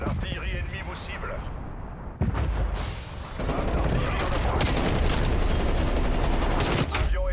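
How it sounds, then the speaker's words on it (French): Enemy artillery and gunfire in the video game Call of Duty Black Ops Cold War: bursts of rapid shots and heavy booms, loud and nearly continuous, with a player talking over the battle. "L'artillerie ennemie vous cible."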